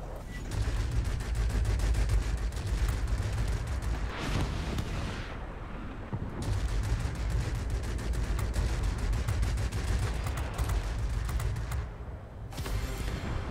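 Warplane guns in World of Warplanes firing long, dense rattling bursts over a heavy engine roar, with short pauses between volleys, loud and close.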